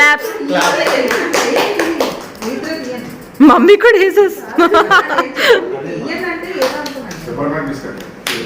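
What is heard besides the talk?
family clapping hands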